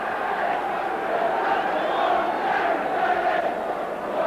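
A Coventry City football crowd cheers an equalising goal against Crystal Palace, a steady, massed roar of many voices that holds throughout at a distance.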